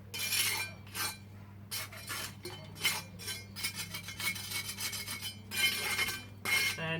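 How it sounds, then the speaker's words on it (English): Old flaky cement screed being chopped out with a hand tool, giving repeated scraping, rasping and chinking bursts in irregular clusters over a steady low hum, close and fairly loud. "we are busy removing the old flaky screed area materials, chopping it out."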